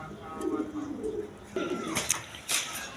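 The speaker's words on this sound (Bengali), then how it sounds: "এখানে এক পেয়ার শর্ট ফেস কবুতর আছে" A pair of short face pigeons coo in low, rolling phrases close by, followed by a few sharper sounds, with someone talking over them.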